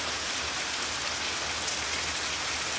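Steady rain falls on garden plants in rural Jamaica during the May rains, a dense, even hiss of drops on leaves and ground that continues unbroken and close throughout, with no voices.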